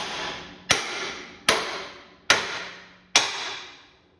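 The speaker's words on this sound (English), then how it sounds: "we just hit this wedge with a hammer" A hammer strikes a steel wedge on a Car-O-Liner frame straightening setup four times at a slow, even pace, each blow a sharp, ringing metallic clang that decays before the next, close and clear with no talking.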